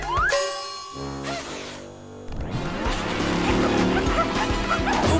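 A cartoonish dog yips and barks amid bright, busy music and sound effects, with a rising whistle-like tone at the start.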